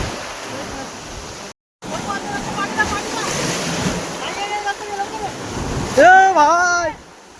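Sea waves surge over coastal rocks in a continuous, loud rush of surf with wind buffeting the microphone, while people's voices cut in and out, one rising in a drawn-out call near the end.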